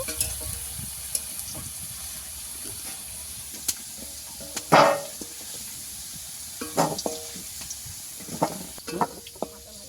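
Potatoes frying in oil in a home kitchen, a continuous close sizzle and hiss broken by scraping stirs and a few louder crackling bursts, with no voices.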